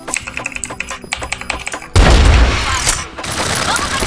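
A mechanical switch keyboard clacks in quick, close, rapid keystrokes for about two seconds before loud gunfire and booms from a shooter game overwhelm it.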